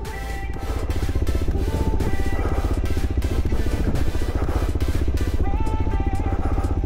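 A motorcycle engine revs and runs steadily close by, a loud buzzing drone that rises and shifts as the bike rides.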